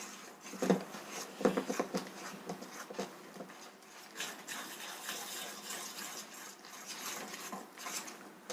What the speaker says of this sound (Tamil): இப்போ கொஞ்சம் கொஞ்சமாக நம்ம தண்ணி சேர்த்துக்கலாம்.